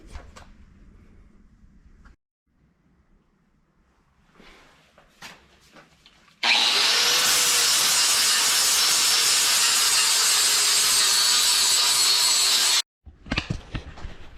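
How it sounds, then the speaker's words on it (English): After some quiet handling noises, a flat sanding wheel grinds steel brake brackets for rear disc brakes on a Ford rear end, giving a loud, steady grinding rasp for about six seconds, then it stops and handling noises return. "we're going to grab the sandpaper wheel, flat wheel. We're going to make these two of them identical on the outside"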